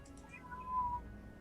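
A single soft cat meow, fairly close and brief, over a quiet low hum.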